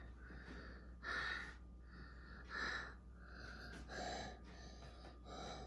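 A child takes repeated deep breaths in and out over a steam inhalation for a cold and cough, close and fairly quiet, in a steady rhythm of about four breath cycles.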